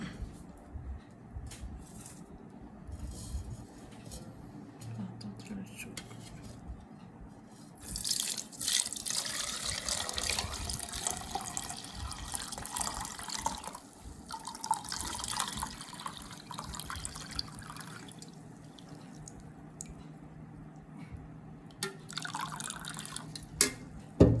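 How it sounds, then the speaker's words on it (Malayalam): Pineapple drink pours and trickles steadily through a strainer into a bowl, with dripping and splashing growing louder midway before tapering off. "നമുക്ക് അരിപ്പയിൽ പാത്രത്തിലോട്ട് ഒഴിക്കാം"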